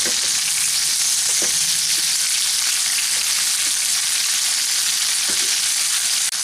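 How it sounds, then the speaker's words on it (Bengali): Prawns fry in hot oil with a loud, dense, continuous sizzle up close, joined by a few soft knocks as the pieces are turned, and no talking. "এখন এই চিংড়ি মাছগুলোকে হালকা করে ভেজে তুলে নেব"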